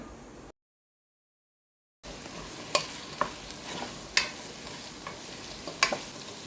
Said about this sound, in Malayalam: ഇപ്പോൾ ഇനി നമുക്കിതിലേക്ക് അരിഞ്ഞു വെച്ചിരിക്കുന്ന എല്ലാം അങ്ങോട്ട് ഇട്ട് കൊടുത്ത് വഴറ്റിയെടുക്കാം